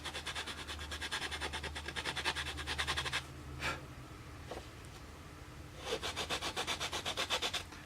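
A hand file rasps across a model aircraft rib in steady back-and-forth strokes, stopping briefly midway and then resuming the same even rhythm, close and fairly quiet.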